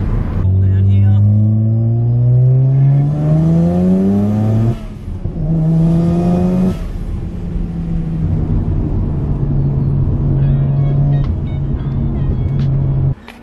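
A Mazda FD RX7 with its rotary engine running close and loud, revving up through rising pitch sweeps, shifting and pulling again, then settling into a steady drone, with a voice speaking over it.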